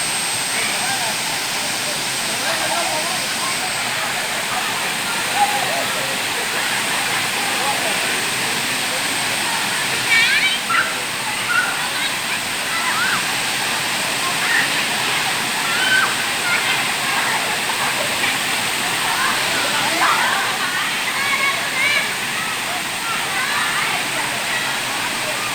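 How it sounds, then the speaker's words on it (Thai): Water pours steadily down the second tier of Huai Mae Khamin waterfall in Kanchanaburi, a continuous broadband rush that stays even throughout, with faint voices in the background. "เที่ยวชมนะครับน้ำตกห้วยแม่ขมิ้นชั้นที่2เท่านั้นนะครับ"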